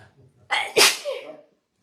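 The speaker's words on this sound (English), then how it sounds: "Tried not to sneeze." A single sharp sneeze with a quick inhaled build-up, then a brief trailing breath, close and loud against an otherwise quiet background.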